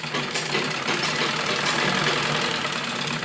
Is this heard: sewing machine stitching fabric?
yes